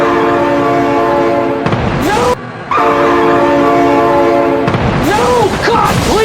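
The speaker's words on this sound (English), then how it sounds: "Oh my god, train!" A loud train horn blares in sustained harmonic blasts in a BeamNG driving game as a train passes close by, with a brief dropout midway and rumbling rail noise underneath.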